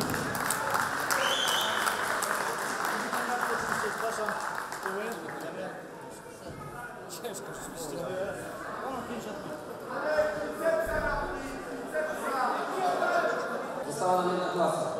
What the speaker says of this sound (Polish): Wielkie brawa, bo zasłużyli, lekko nie mieli.